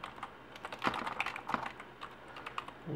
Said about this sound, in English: Make sure you type all of these correctly.